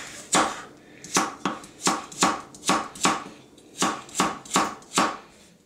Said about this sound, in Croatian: i sad unutra ide ovako isto mrkva, koju režem isto na tetra